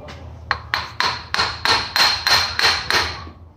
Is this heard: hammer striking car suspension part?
yes